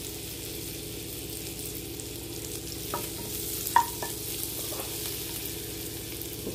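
A quiet, steady sizzle of butter melting in a hot pan, with a few faint clicks and scrapes partway through.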